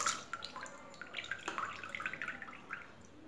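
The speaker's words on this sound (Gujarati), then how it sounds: "પાણી નિતારી દઈશું" Water drains off soaked rice and lentils being readied for dhokla batter, a faint, quiet trickle with light irregular dripping and splashing.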